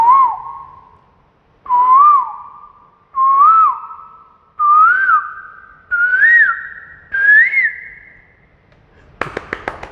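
A mimicry artist whistles an imitation of an Asian koel's call: six loud, clear, rising whistled phrases evenly spaced, each pitched a little higher than the last, followed by a few sharp taps.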